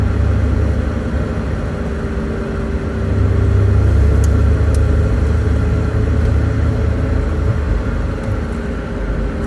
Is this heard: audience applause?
no